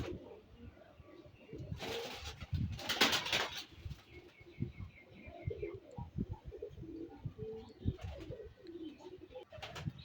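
Pakistani highflyer pigeons coo in a loft, low and repeating alongside other bird calls and bursts of chirping and wing noise, fairly near.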